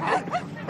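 Cartoon dogs in a dog shelter give a short yip and bark, close and fairly loud, in a brief animated scene.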